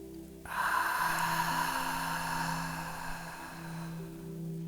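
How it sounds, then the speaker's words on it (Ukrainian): A long, deep breath in and out during a guided meditation, a soft airy rush that swells suddenly and then slowly fades, over a quiet sustained musical drone. "Тож зробімо вдих і видих."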